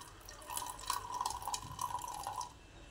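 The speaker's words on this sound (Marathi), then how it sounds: "अजून एका पाण्याने धुवू आपण" Pearl millet grains are rinsed in a vessel of water, with soft continuous sloshing and dripping close by for a few seconds, no voice over it.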